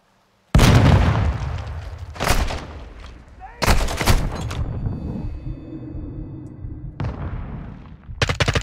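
Flashbang grenade going off in Call of Duty Modern Warfare II: several loud, sharp blasts spread over a few seconds, each with a harsh ringing tail, over a steady rumble of game noise.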